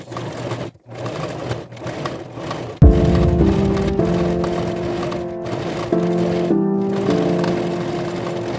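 A sewing machine stitches a reinforcing second seam on fabric for a pet cushion bed, starting partway in with a loud, steady mechanical whir that briefly pauses and changes pitch before resuming.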